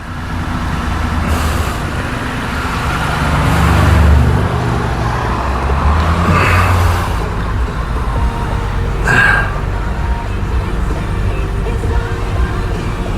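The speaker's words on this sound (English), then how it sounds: "Engine running." A Lexus car engine idles steadily after starting, a continuous low rumble with faint higher whines and a brief hiss near the end.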